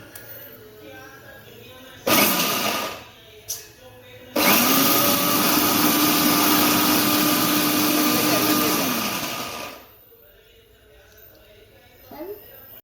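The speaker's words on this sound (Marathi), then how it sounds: "आता मी मसाला बारीक करतोय" Mixer grinder whirring as it grinds masala spices for a mutton curry, a short burst followed by a long, loud steady grind that winds down, with talk in between and after.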